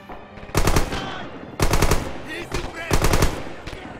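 Machine gun fire in the video game Red Orchestra 2 rattles out in three loud, close bursts of rapid shots separated by short gaps.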